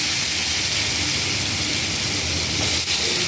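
Cut potatoes frying in a pan give off a steady, close, unbroken sizzling hiss that holds at an even level throughout, with no talking.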